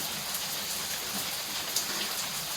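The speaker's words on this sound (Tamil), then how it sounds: "நல்லா மழை பெய்யுது அதான் நல்லா சத்தம் பார்த்தீங்களா" Steady, heavy rain pours down in a dense continuous hiss, close by, with no voices.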